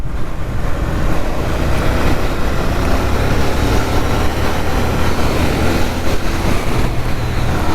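A Royal Enfield 650 GT Continental rides through bends, its engine a steady loud drone mixed with heavy wind rush and dropping through a couple of gears, continuous for the whole stretch.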